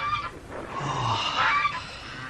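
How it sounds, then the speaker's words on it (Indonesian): A swan sound effect in an audio drama, the call of a wounded white swan with a broken wing: a hoarse, goose-like honking cry, heard alone without speech. "Angsa yang malang."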